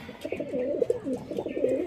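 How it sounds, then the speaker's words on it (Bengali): Pigeons coo steadily from a loft holding several pairs of birds, the throaty, rolling calls overlapping close by with no pause across the short stretch. "পাঁচ জোড়া পায়রা আছে"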